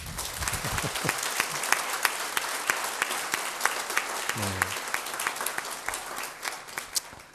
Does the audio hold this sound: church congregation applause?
yes